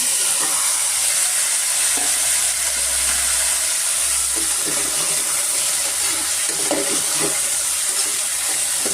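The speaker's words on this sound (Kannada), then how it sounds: "ಎಣ್ಣೆ ಕಾದಿದೆ ಇವಾಗ ನಾವು ಬಟಾಣಿ ಮತ್ತು ಈ ಫ್ರೈ ಮಾಡ್ಕೊಳ್ಳೋಣ" Green peas and cauliflower frying in hot oil for gobi matar gravy, a steady close hiss and crackle with faint bubbling throughout and no voices.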